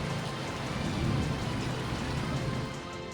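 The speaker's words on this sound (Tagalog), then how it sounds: "Biglang buhos ang malakas na ulan sa ilang bahagi ng Metro Manila pasado alas 6 ngayong gabi" Heavy evening downpour over Metro Manila, with thunder and lightning, a dense, steady roar of rain hammering surfaces with a low rumble swelling midway and no voices.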